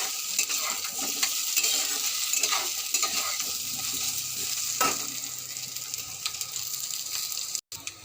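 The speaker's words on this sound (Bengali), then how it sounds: "সবজিটা আমার ভালোই ভাজা হয়ে গেছে" Squash, capsicum and potato fry in a pan with a continuous close sizzle, broken by repeated scraping stir strokes and a few metallic clinks, with a brief drop-out near the end.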